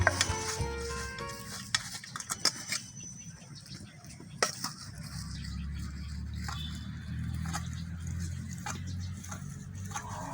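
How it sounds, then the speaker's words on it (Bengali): Boiled green banana being mashed and ground while still warm, in a village kitchen for banana chops: soft irregular pressing and scraping taps at close range, with a steady low hum underneath. "একটু গরম গরম থাকাতেই বেটে নিচ্ছি, ঠান্ডা হয়ে গেলে দোলা বাঁধবে, তাই এখনই বেটে নিই"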